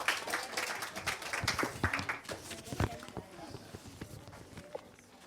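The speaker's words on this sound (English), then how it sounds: "Clapping everyone." Scattered, uneven clapping from a small group at a winter camp certificate presentation, sharp separate claps in a loose rhythm that thin out and fade over several seconds, with some voices underneath.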